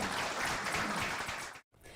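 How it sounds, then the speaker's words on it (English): Crowd applause at the swearing-in of a new Manatee County commissioner, steady clapping from a room full of people, fairly faint and distant, cutting out briefly before resuming. "that is the sound of Manatee County's new commissioner, Raymond Turner, being sworn in today"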